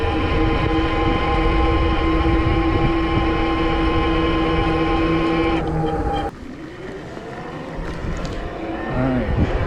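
A QuietKat Jeep electric all-terrain bike motor runs loud with a steady whine that cuts out partway through, then builds again, with no talk over it.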